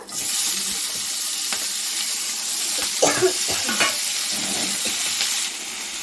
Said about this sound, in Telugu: రెండు స్పూన్లు ఆయిల్ వేసి స్టవ్ వెలిగించి ఇవ్వండి ఈ మూడు టమాటాలు దీంట్లో వేసేద్దాం